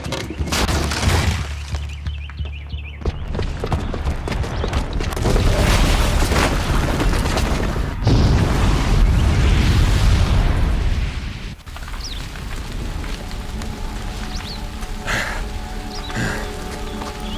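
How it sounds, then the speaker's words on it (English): A booby-trapped bomb detonates in the video game Horizon Zero Dawn, a loud booming blast followed by heavy rumbling, crashing debris and a second surge of explosive roar before the noise thins into quieter game ambience. "the booby trap on the bomb downstairs is gonna get set off"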